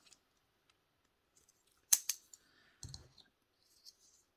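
Small metal clips for diamond painting having their arms folded back, giving a few sharp, close clicks in quick succession, followed by a softer snap and light handling taps in a quiet room.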